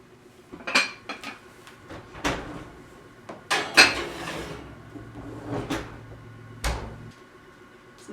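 Ingredients for an elk enchilada scramble and cheese going into a baking dish, with scattered clinks of utensils against cookware and a few knocks from handling dishes, no talk.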